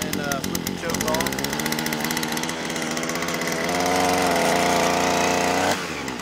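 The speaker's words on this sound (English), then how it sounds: "Let it run for a second and then flip the choke off." A 52cc multi-function brush cutter's small two-stroke engine runs close by on choke, buzzing loudly and steadily, then its pitch rises and evens out near the end.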